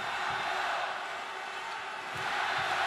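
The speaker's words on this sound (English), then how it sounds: "And the crowd beginning to get a little bit agitated here." Arena crowd at a Thomas Cup badminton doubles final, a dense roar of voices and chanting for China, steady and moderately loud with faint thumps from the court beneath.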